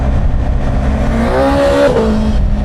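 A loud motorcycle engine with an Akrapovič exhaust revs up with a rising, rasping exhaust note, then drops back to a rumbling idle, close by.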